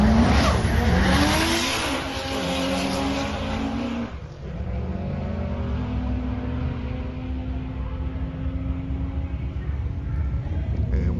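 Roll racing car accelerating hard against an FG XR6 Sprint, a loud roaring engine climbing through the gears with a brief dip at a gear change, then a sustained high-speed drone.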